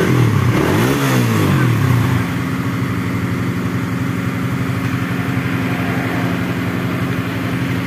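A Suzuki Satria F fuel-injected motorcycle engine idles steadily and loudly up close, with a brief rev at the start before settling into an even, continuous rumble.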